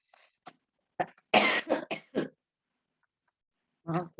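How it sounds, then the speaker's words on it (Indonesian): Several coughs from a woman during a basic mathematics lecture on inequalities, a quick cluster of close, sharp bursts followed by a pause and one more cough. "Aku batuk."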